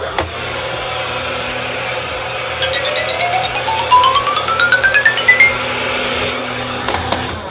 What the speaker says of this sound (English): I forgot all about this hairdryer.